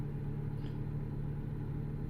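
A truck engine in American Truck Simulator drones in a low, steady rumble while cruising at highway speed, constant and fairly quiet with no talk over it.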